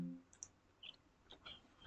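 A few faint, crisp mouse clicks on a save button in ERP production management software, quiet and isolated against near silence.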